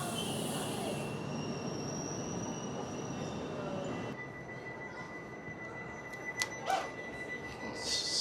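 Old, worn train wagons rolling through Paris on a rainy day, with a steady rumbling rush of wheels on rail, a sustained metallic squeal, and a few sharp clanks near the end.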